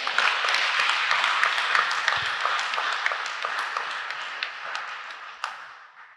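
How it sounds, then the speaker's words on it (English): A congregation claps at a church gathering, a bright scatter of many hands that stays lively for several seconds and then slowly thins and fades. "go ahead, you can clap for Jesus Christ."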